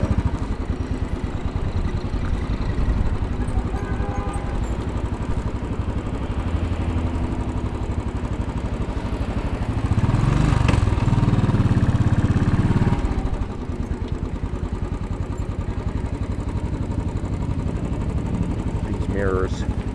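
A motorcycle rides through midtown Manhattan traffic, its engine droning steadily up close with a louder rev partway through, wind and street noise mixed in.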